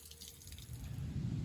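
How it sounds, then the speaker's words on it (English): A small trail stream runs with a soft, steady trickle and light dripping, close by and alone, growing slightly fuller toward the end. "Nice little stream, good bit of running water."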